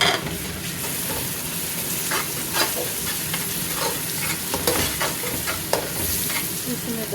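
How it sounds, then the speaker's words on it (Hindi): Whole spices fry in hot oil for Pakistani chana rice, a close, steady sizzle broken by repeated stirring scrapes and light clinks of the spoon against the pan. "इसमें डाल दिए हैं खड़े मसाले, तो थोड़ा सा भुनेंगे।"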